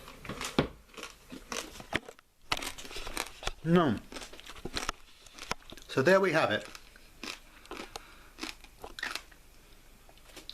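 Crisp roast ham knuckle crackling is bitten and chewed close up, with several loud crunching bursts between softer chewing, while someone speaks briefly.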